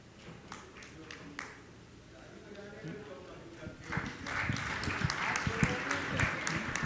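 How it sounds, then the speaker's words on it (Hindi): A seated audience at a Jain monk's question-and-answer gathering claps for an arriving guest; a few scattered claps give way to dense, sustained applause in the second half, mixed with voices. "आप लोग जोरदार तालियों से आगंतुक अतिथि का सम्मान करें।"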